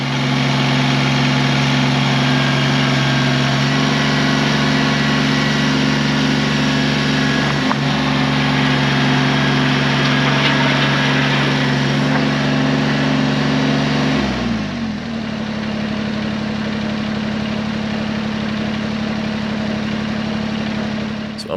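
A Kubota BX compact tractor engine drones steadily and loudly up close at raised throttle while its loader lifts lumber, then the pitch drops near the end as the revs ease off, with no talking.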